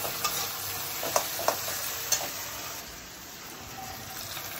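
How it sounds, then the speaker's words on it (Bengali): Spice paste goes into fried onions in a pan for a Kolkata-style crab masala, giving a close, soft sizzle with a few sharp stirring scrapes early on, then a quieter steady fry. "পেঁয়াজগুলো ভাজা হয়ে গেছে, এবার মশলাটা যেটা তৈরি করে রেখেছিলাম সেটা দিয়ে দিলাম।"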